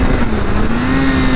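A 2016 BMW S1000R motorcycle with an ECU flash tune accelerates, its engine a loud, close, steady roar with a rising drone over the whole short stretch.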